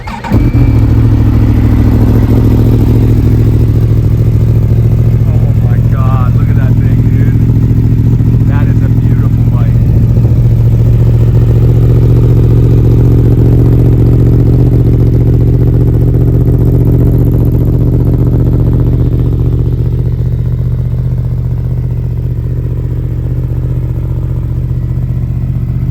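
A Yamaha R1M sport motorcycle engine starts up and settles into a loud, steady idle to warm up, droning close by with slight rises and dips in pitch throughout, no speech heard over it.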